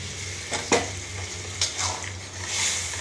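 Chana dal sizzling and being stirred in a pan with raisins, a steady frying hiss with a few soft scraping strokes of a spoon, close and moderately quiet, with no one speaking.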